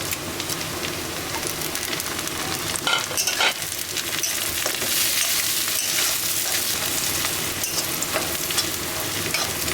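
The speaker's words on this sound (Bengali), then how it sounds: "পেঁয়াজ অল্প ভাজা হয়ে গিয়েছে এর ভিতরে আমি তেজপাতা গোলমরিচ লবঙ্গ দারচিনি আর হচ্ছে এলাচ দিয়ে দিই" Bay leaf, peppercorns, cloves, cinnamon and cardamom hit hot oil with lightly fried onions for khichuri, giving a loud, steady, crackling sizzle with scraping stirs throughout and no talking.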